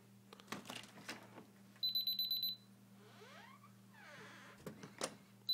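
A home alarm system keypad beeps as the door opens, a short run of rapid electronic beeps amid faint household clatter and rustling.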